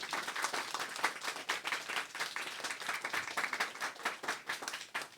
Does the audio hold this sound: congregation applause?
yes